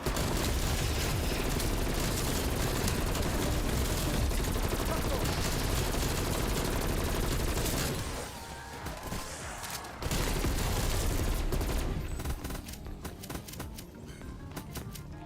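Rapid, dense video game gunfire pours out in a continuous loud stream, briefly thinning out midway before another sustained burst and then scattered shots.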